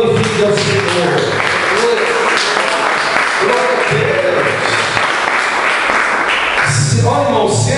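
A church congregation applauds at length during a sermon, a steady wash of clapping at close range with voices calling out over it throughout.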